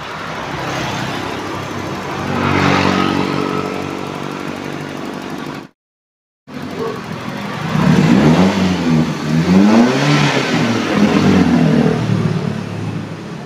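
A 2002 Toyota Soluna GLi engine revved during an exhaust smoke check, rising and falling in mid-pitched surges with a brief silent gap midway, then stronger repeated revs close to the microphone.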